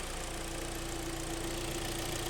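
A Hyundai ix35 with a G4KD engine idles steadily while warming up, a close, constant mechanical drone with a faint knock and no talking.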